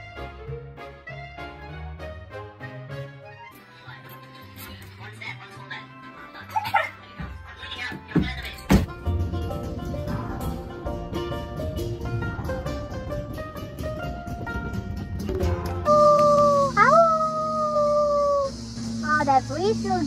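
A dog howls and barks amid background music and people talking, with yips and drawn-out wavering howls building toward the end, loud and close over a busy mix.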